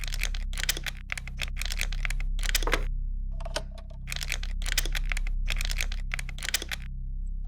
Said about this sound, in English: As long as the lockpicks work, there's no trouble at all.